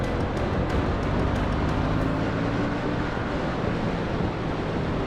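A Yamaha XSR 700 or MT09 motorcycle cruises along in third gear, its smooth, steady engine drone largely buried under constant rushing wind noise, with no speech.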